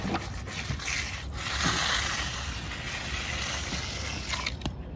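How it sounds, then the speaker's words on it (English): A concrete float rubs slowly and flat across a fresh concrete slab outdoors, giving a steady close-up gritty scraping that continues without pause and carries no talk. "just floating everything shut, flat and slow"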